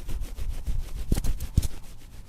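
Palms rubbed briskly together outdoors during a yoga class, soft rhythmic swishing strokes close by, with a couple of slightly louder rubs near the end.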